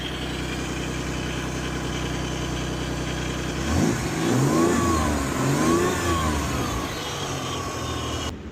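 A Toyota 4Runner engine runs steadily at a high warm-up idle, close and loud, then briefly surges and revs in the middle before settling back to a steady idle, with no talk over it.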